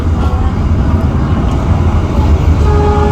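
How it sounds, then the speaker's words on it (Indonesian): A passing Penataran train, loud low rumble and rolling wheel noise close by, steady and continuous with faint tonal hums layered over the roar. "Kereta apa itu? Oh, Penataran."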